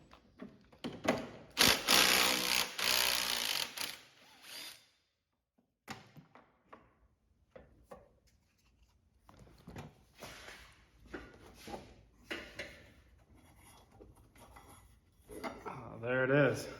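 Metal tools clink, scrape and rattle while a mower's steering wheel is worked off, with a louder burst of clattering near the start followed by scattered knocks and taps and a voice near the end.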